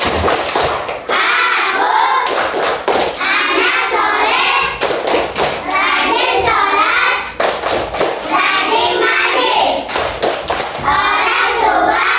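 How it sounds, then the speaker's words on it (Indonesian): Elementary fourth-grade pupils in a classroom perform the rhythmic 'tepuk anak soleh' clapping chant, loud and close, with sharp patterned claps and bursts of children's chanting voices alternating in steady phrases. "kita tepuk anak soleh dulu. Tepuk anak soleh"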